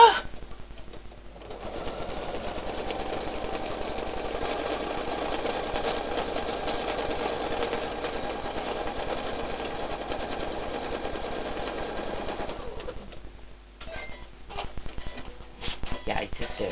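A sewing machine does free motion stitching in a steady, close whirring run of about twelve seconds, then stops, with brief talk and a few clicks afterward.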